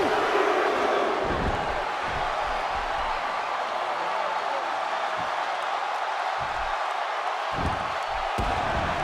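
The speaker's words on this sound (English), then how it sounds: "The crowd is buzzing." Arena crowd in WWE 2K16 buzzing steadily throughout a match, a dense continuous roar of many voices with occasional louder swells and thumps, heard up close and unbroken for the whole stretch.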